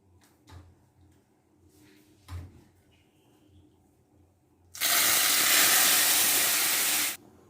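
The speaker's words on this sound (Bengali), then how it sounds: "আমি পুরো ডালটাই ঢেলে দিলাম" Lentil dal goes into a hot pan. A few soft knocks and clatters come first, then a sudden loud, steady hiss rises and holds for a couple of seconds before cutting off.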